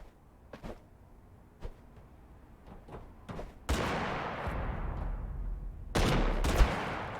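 Video game combat with a grenade and bombardment: scattered sharp gunshots give way to two heavy, booming explosion barrages that roll on with dense crackling fire, loud and close, with no talking.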